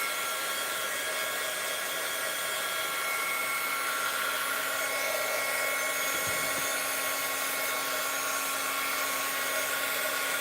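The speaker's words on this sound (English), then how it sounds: "but I'm going to help it along with my heat tool." A handheld heat tool blows a steady, loud stream of hot air to speed-dry paint on a wooden flower press, a continuous whirring hiss that holds unchanged throughout with no talking.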